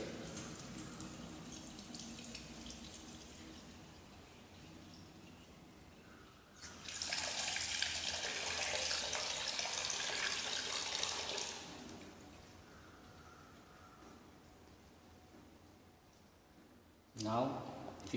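Water runs into a sink as rinsed rice is drained from a bowl, a faint trickle swelling into a louder pour for a few seconds, then easing back to a quiet dribble with a short splash at the end.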